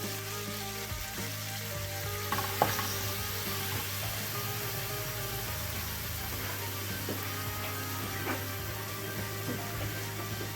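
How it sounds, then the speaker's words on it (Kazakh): Meat frying in hot oil for Korean kuksi noodles gives a steady, fairly quiet sizzle and crackle throughout, with no talking. "қызып тұрған майда етімізді құрамыз"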